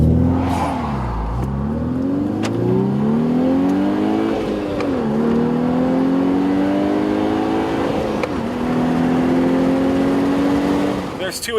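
A Volkswagen Golf R accelerating hard from 0 to 60 mph, its engine note climbing steadily through several gear changes with brief dips between shifts, loud and close from inside the car, bogging slightly and pushing toward the red line.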